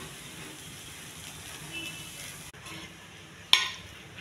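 Black-eyed peas (bobbarlu) frying in a pan give a faint, steady sizzle and hiss, broken by one sharp clink of a utensil against the pan near the end.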